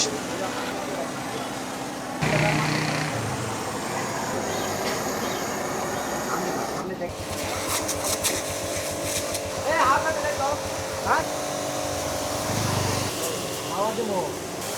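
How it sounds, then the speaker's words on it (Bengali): An air pump inflates a washed motorbike's tyre with a continuous mechanical drone and hiss, changing character partway through, while people talk over it. "এখন হাওয়া মারতেছে চাকাতে"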